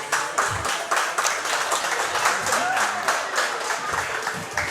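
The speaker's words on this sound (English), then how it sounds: "Everyone give him a round of applause" A crowd claps steadily, moderately loud and continuous, with voices mixed in beneath the applause.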